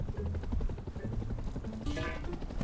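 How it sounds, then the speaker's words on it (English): A helicopter in the survival game Rust approaches with a rapid rotor chop that runs throughout, mixed with other game noise and short tonal effects. "Oh, chopper's coming as well."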